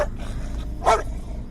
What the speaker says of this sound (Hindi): घर के अंदर बैठा जर्मन शेफर्ड कुत्ता उन पर जोर जोर से भौंकने लगता है